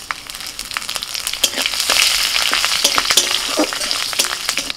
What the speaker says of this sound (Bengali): ফোড়নে দিচ্ছি তেজপাতা, শুকনো লঙ্কা, কাঁচা লঙ্কা আর দিচ্ছি একটু জিরে